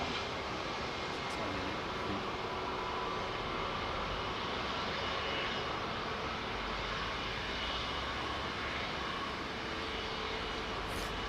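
A Boeing 747 jet airliner passing close at Heathrow runway 09R makes a loud, continuous broadband engine roar that holds steady without a break.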